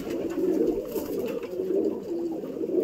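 Pigeons coo steadily in a loft, a continuous low, warbling murmur from several birds close by with no talk.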